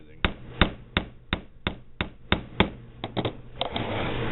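Hammer striking a soft metal pin to peen it into a rivet while repairing a utility lockblade knife, about a dozen sharp metallic taps in a steady rhythm, close and clear, quickening toward the end.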